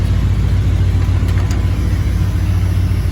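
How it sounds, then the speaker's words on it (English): A 1987 Ford Econoline E350 Infinity conversion van idles after sitting for a few days, with a steady, loud, low engine rumble throughout. "that's just idling after, like I said, sitting for a few days"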